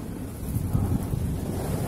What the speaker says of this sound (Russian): Смотрите, какой ветер, как деревья шатаются.